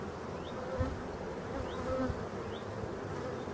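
Honey bees hum in an opened beehive, a dense, steady buzz that carries on without a break, with a few individual bees droning a little closer now and then.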